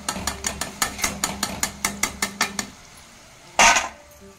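Crispy fried tomato chips shaken in a metal strainer as they are lifted from hot oil, giving a rapid run of about fifteen rattling clicks, then a pause and one louder crunchy rustle near the end.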